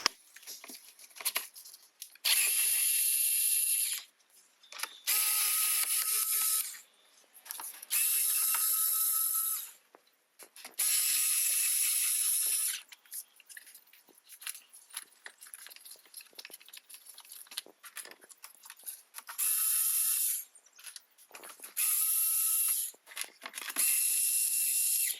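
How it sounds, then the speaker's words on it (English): Bursts of ratcheting from a 10mm hex ratchet backing out four screws on a 2021+ Tesla Model S Plaid frunk, several close, steady whirring runs separated by short pauses, with no talking. "we're going to use a 10mm hex to unscrew the 4 screws."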